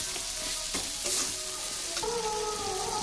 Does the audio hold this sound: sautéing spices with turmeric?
yes